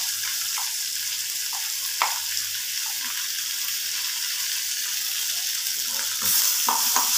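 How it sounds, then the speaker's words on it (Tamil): Karpuravalli leaves and curry leaves sautéing in a pan give off a bright, constant hiss of frying oil, with a few soft stirring taps and a louder burst of sizzle near the end. "கருவேப்பிலை கொஞ்சம் போட்டு இது நல்லா வதங்கி வரட்டும்"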